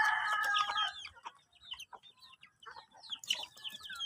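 Chickens clucking with brief squawks, and a rooster crowing, a busy burst at the start and again near the end, fairly close, with quieter scattered calls between.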